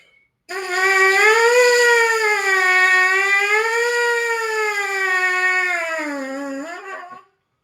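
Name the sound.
trumpet mouthpiece buzz imitating siren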